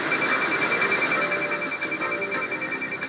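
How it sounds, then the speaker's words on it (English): A steady, high-pitched electronic gas detector alarm rings continuously over background hum, shrill and unbroken for the whole stretch. "An alarm will ring to alert the technician of a danger."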